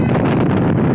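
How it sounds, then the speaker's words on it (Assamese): Strong wind blows hard and constantly, buffeting the microphone with a dense roar. "বেয়া বতাহ চলি আছে"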